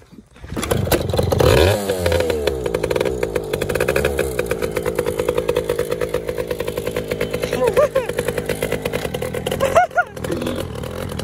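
Yamaha PW80 dirt bike, cold engine, bursts into a loud two-stroke buzz, then revs in rapid rhythmic pulses up close, with brief voices around it.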